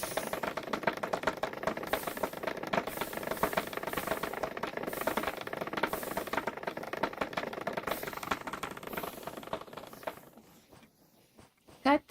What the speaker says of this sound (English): Bamboo farm sounds like this.